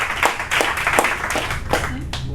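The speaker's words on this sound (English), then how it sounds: "Everybody give a nice big warm round of applause to my young brother up here" Audience members clap for a young performer at a poetry show, a brief patter of scattered claps with a voice mixed in beneath.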